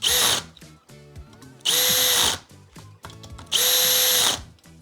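Power drill driving screws into furniture in three loud whirring bursts, each about a second long with a steady motor whine, separated by quieter gaps of handling clatter.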